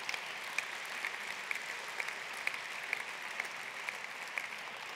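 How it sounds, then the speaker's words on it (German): An audience applauds at a political speech, a steady, fairly distant wash of clapping with a few sharper individual claps standing out, and no voices on top. "Applaus"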